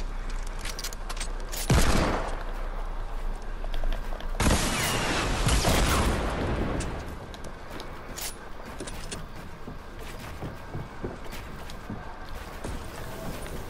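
Bursts of enemy gunfire in a video game, two heavy loud volleys a few seconds apart followed by lighter scattered shots and mechanical clatter, with no talking.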